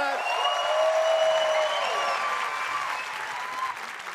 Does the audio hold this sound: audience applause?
yes